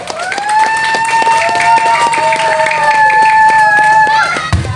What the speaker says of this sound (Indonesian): Beri tepukan yang gemuruh boleh lagi